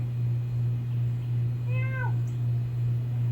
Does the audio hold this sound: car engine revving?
no